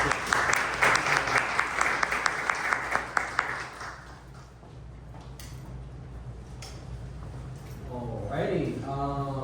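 Audience at a city charter reform commission meeting gives a short round of applause for a presenter, moderate clapping for about four seconds that fades into quiet room noise before a voice speaks.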